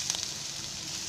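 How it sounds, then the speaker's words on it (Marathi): Onion frying in a pan, with ginger and whole garlic to follow, for a brinjal and potato masala: a brief, quiet, steady sizzle with no voices. "कांदा थोडा भाजला ना मग अद्रक आणि लसूण टाकायची"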